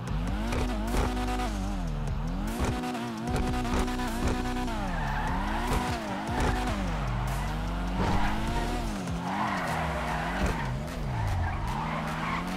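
A limited release car in GTA 5 Online roars continuously as its engine revs rise and fall through gear changes, loud and close throughout, with screeching tyre skids breaking in.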